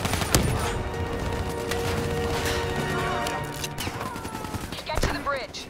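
Sustained automatic gunfire and explosions fill a Call of Duty Black Ops 3 battle in dense continuous bursts, with crashes and a few louder shots over a busy combat soundscape.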